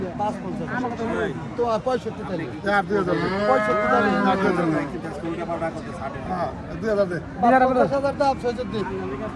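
Cows at a busy cattle market low in several drawn-out moos, loud and near, rising above the steady chatter of a crowd of people talking and bargaining.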